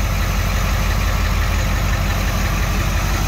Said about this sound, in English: Feels nice and smooth, idles well, it's got plenty of pickup.